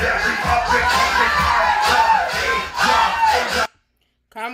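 A ballroom event crowd cheers, whoops and claps in loud overlapping bursts that swell and dip, then cut off abruptly into silence before a brief voice returns.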